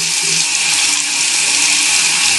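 Tap water runs steadily while a hair brush is wetted under the faucet, a continuous close hiss of flowing water with no talking.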